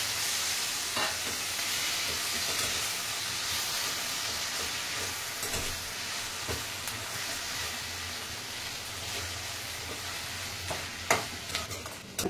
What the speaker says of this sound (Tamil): போட்டு கொஞ்ச நேரம் வதக்கிட்டு எடுத்துக்கணும்